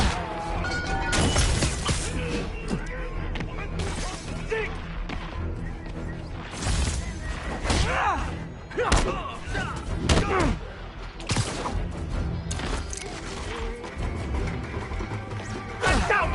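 Rockets fired in a Spider-Man video game: a loud, chaotic run of booming impacts, crashes and whooshing blasts spread across the stretch, with dense action noise between hits.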